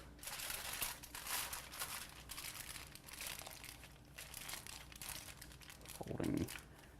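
Aluminum foil folded shut around tilapia, lemon slices and veggies: continuous crinkling and crumpling in irregular bursts, close and fairly loud, with a thicker crunch near the end.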